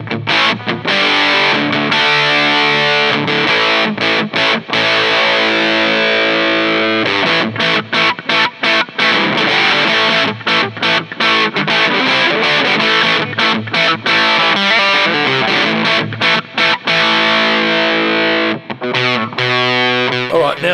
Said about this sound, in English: we'll have a listen to the modern mode with the humbucker guitar